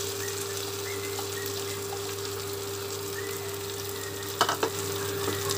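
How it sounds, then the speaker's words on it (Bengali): Chicken pieces frying in a pan of spiced masala for Banarasi dry chilli chicken: a loud, steady, close sizzle with a low hum beneath, and a brief burst of stirring clatter near the end. "এবার আমি এই সময় চিকেনগুলো দিয়ে দেব।"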